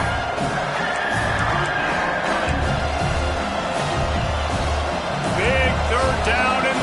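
A football stadium crowd roars in support of the home defense on third down in the red zone, a loud, steady wash of cheering under continuous play-by-play commentary.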